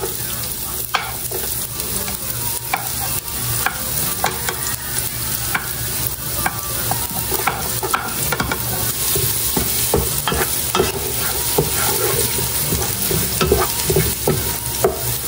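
Onion sizzles steadily in a hot pan while a utensil stirs and scrapes at it, giving close clicks and scrapes over a constant frying hiss.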